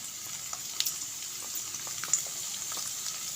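Garlic frying in hot ghee in a pan while making daal mash with palak, a constant soft sizzle with scattered tiny pops, faint and alone.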